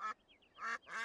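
A few nasal honking quacks, three louder calls with softer ones between, close and clear against silence.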